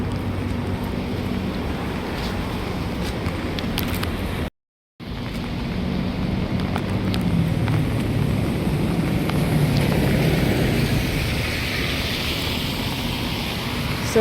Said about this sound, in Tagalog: So, umuulan. Literal na umuulan.